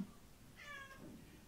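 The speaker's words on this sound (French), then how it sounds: "C'est le chat qu'on a adopté il n'y a pas très longtemps." A recently adopted house cat lets out a single clear meow, fairly close but soft, with no talking around it.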